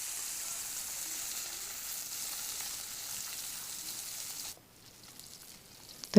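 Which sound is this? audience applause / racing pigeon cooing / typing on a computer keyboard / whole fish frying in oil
whole fish frying in oil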